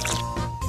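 Wine trickles and drips briefly into a tiny miniature cooking dish, a soft, close liquid splash lasting under a second.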